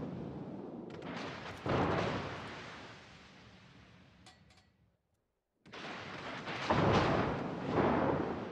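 Naval guns fire on a target during destroyer combat in a video game: heavy booms with rolling rumble that swell, fade out to a brief silence, then return with more loud blasts.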